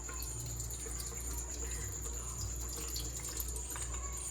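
Soaked grain for homemade baby cereal rinsed in water, a steady close splashing and trickling wash that runs evenly without pause and with no voices.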